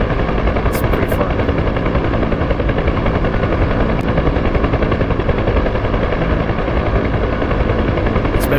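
A Huey helicopter flies in a combat search-and-rescue video game, a loud, steady, close rotor thump filling the whole clip with a few faint clicks, no speech.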